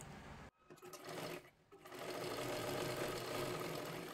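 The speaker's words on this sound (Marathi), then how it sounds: "एकावरती एक ठेवून व्यवस्थित आपल्याला शिलाई करून घ्यायची आहे" A close sewing machine stitches blouse fabric in a steady whir, breaking off briefly twice and then running on evenly and loud.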